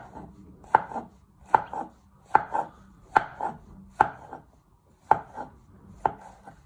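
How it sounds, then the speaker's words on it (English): Mushrooms being sliced with a knife on a cutting board: seven crisp, evenly spaced chops land about once a second, close and clear, each with a softer knock after it, and no one speaks. "do little pieces of slices like I'm doing here"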